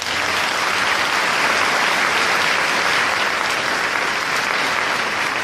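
A congregation applauds during a Catholic sermon, a thick, continuous wash of clapping from a large crowd, loud and even from start to finish with no talk over it.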